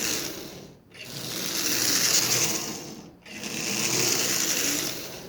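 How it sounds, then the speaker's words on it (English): Freshly oiled Marx double reduction toy motor running: a continuous buzzing, whirring drone with gear chatter, close and fairly loud, twice briefly cutting out and spinning back up. "Absolutely unbelievable that this motor is actually running."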